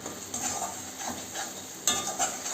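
A spoon stirs onion, ginger, garlic, salt, turmeric, red chilli powder and cumin frying in oil for chicken curry. Steady sizzling runs throughout with scraping strokes against the pan, and a louder stir and clatter comes near the end.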